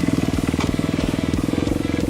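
A Kawasaki KX250F dirt bike engine drones steadily while riding through the woods, a close, loud, rapid-pulsing exhaust note throughout with no talk.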